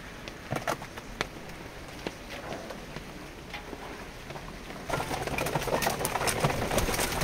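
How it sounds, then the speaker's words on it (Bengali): Racing pigeons in a loft coo softly and intermittently with occasional wing flutters, fairly faint, over a steady background hiss that thickens toward the end. "তো এই হলো কবুতরগুলা।"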